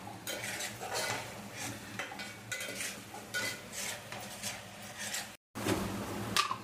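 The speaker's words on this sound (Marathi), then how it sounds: "ते चांगलं भाजून घ्यायचंय" Ground masala paste frying in oil for a homemade crab curry, stirred with a metal spoon that scrapes and clinks against the pan in a steady, close rhythm over a low sizzle, with one brief break.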